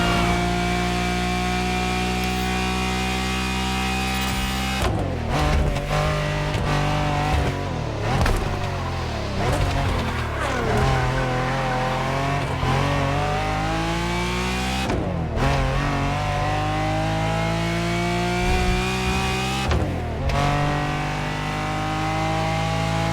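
An SSUV car in The Crew Motorfest video game races with a loud engine that revs up and down, climbing through gears with repeated sharp shifts and cuts, the roaring drone continuous with no talk over it.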